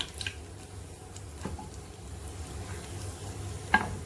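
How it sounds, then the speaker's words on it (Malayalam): Mustard seeds crackle and spit in hot oil with soft sizzling, a few sharper pops standing out, one loud near the end. "കടുക് പൊട്ടി വന്നിട്ടുണ്ട്"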